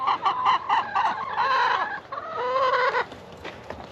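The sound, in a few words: chickens clucking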